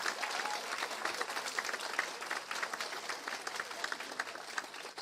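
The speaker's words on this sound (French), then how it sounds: "On peut les applaudir chaleureusement, s'il vous plaît" A crowd applauds steadily at a campus ceremony honoring teachers, dense clapping at an even level throughout, moderately distant and continuous.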